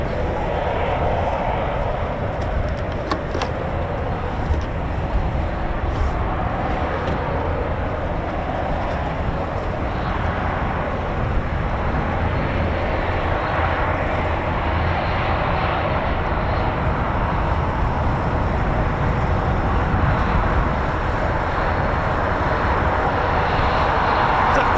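A Eurofighter Typhoon FGR4 jet taxis out at RAF Coningsby, a steady broad roar of jet engine noise heard from a distance and holding at a constant level throughout.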